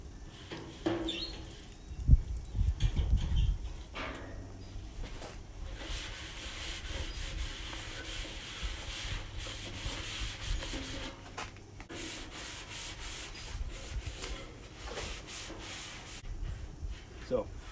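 Steady close rubbing and scrubbing as oil is worked over the inside of a Smoke Hollow smoker gas grill combo, a continuous abrasive swish with brief louder bumps early on.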